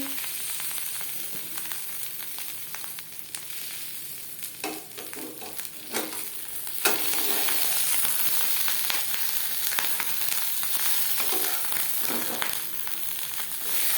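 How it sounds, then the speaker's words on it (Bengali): Jackfruit paturi frying in a pan over a gas flame, a steady close sizzle with crackles and occasional stirring scrapes that grows slightly louder midway. "প্রথম দু তিন মিনিট মিডিয়াম ফ্লেমে ভেজে নেওয়ার পর গ্যাসের ফ্লেমটাকে লোতে করে দেব"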